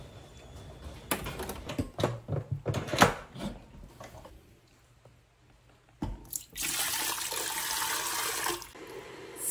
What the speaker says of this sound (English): But yeah, wash your beans again.